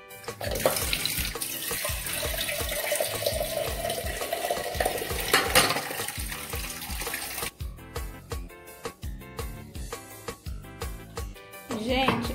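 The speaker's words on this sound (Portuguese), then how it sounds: "agora eu vou colocar água aqui, ó" Kitchen tap runs steadily into a pan for several seconds, a continuous splashing gush, then the flow changes to sloshing and knocking of water being stirred and poured, close and moderately loud.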